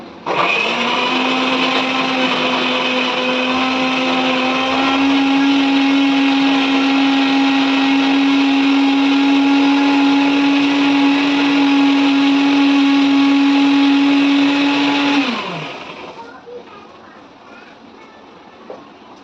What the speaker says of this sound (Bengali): চলুন মশলাটা পিসে নেই